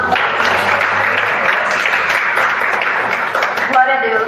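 Church congregation applauding during a worship service, a steady loud wash of clapping throughout with voices and some singing or speech mixed in underneath.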